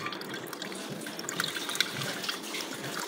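Falsa fruit juice with its skins and seeds strained little by little through a kitchen strainer, giving a steady close wet trickle and splash with a few small drips, and no voices.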